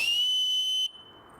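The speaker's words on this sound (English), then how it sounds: "It's a really loud whistle." A loud, piercing whistle rings out in leafless autumn woods in Maryland, one steady high tone held for nearly a second before cutting off abruptly, leaving quiet woodland background.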